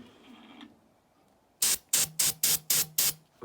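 Starting fluid sprays into the engine of a 1954 Farmall 300 tractor in six short, sharp hissing bursts at a steady rhythm, close by, after a brief quiet hum.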